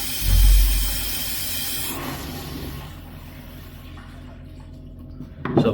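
Water hisses and sprays steadily from a toilet cistern that keeps filling and overflowing because the fill valve fails to shut off, with a loud burst at the start settling into a continuous rush.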